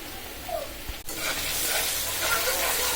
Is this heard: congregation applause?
no